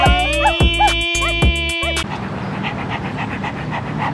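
A puppy pants rapidly and rhythmically up close for about two seconds, with high whimpery tones over the breaths, then a busier, noisier background takes over.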